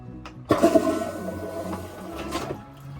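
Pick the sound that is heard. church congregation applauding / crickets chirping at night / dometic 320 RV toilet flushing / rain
dometic 320 RV toilet flushing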